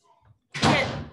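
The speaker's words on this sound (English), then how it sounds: "Slam my door." An indoor door slams shut with one heavy, close thud that booms and decays over about half a second, after a faint, brief sound just before.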